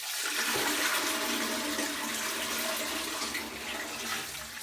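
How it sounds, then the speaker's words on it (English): A toilet flushing with a manual drum auger still stuck in the bowl, a loud rushing swirl of water that holds steady for several seconds, close and alone with no talk. "I'm going to flush the commode, of course, with the auger still stuck in there."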